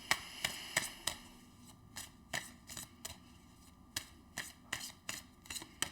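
Tarot cards are shuffled in quick bursts of crisp riffling flicks, each burst sharp and close, separated by short pauses, quiet and without speech.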